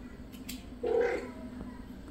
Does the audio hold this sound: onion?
no